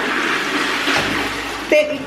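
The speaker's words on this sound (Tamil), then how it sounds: "பாருங்கள் இப்போ ஃப்ளஷ் பண்ணோன்னா ஸோ தண்ணி வெளியில் வராது." A Kohler toilet flushes indoors with a steady rush of water, a brief dip midway and a sharper gurgling surge near the end, while someone talks over it.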